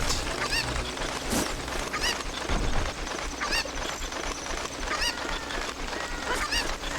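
Chickens in Zelda: Ocarina of Time give repeated clucking honks at irregular intervals over a steady game ambience, moderately loud, with no talking.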